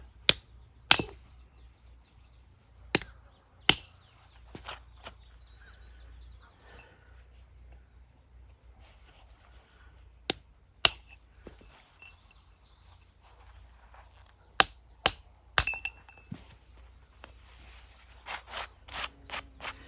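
Hammer and chisel knocking marble facing off a memorial stone: sharp, isolated metallic strikes in scattered bursts, a few widely spaced blows early, then a quicker cluster of taps toward the end, over quiet background with low hum.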